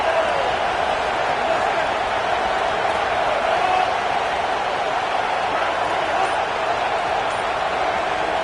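Stadium crowd at an Auburn football game on fourth down, a steady, loud, unbroken roar of many voices with no break or swell, the noise staying constant throughout.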